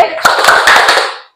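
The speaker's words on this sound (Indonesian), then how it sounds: "Ayo, tepuk semangat." A group of students and a teacher perform a rhythmic clapping chant, sharp claps in a quick patterned sequence close by, with voices calling out together over the hands before it stops abruptly.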